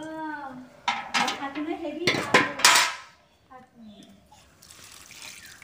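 Chopped mushrooms rinsed in water, with pans and utensils clattering in sharp bursts and a brief voice at the start, fading to quieter splashing and handling.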